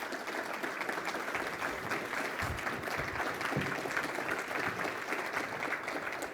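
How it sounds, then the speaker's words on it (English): A seated audience claps steadily at a city mayor's state of the city address, an even wash of applause filling the room for several seconds without voices. "You can clap."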